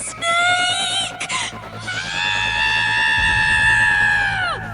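A sharp, pained scream rings out from a tent at a campsite after a rattlesnake strike, loud and drawn out with harsh harmonics, with a second rising yell overlapping and a brief low rumble near the end.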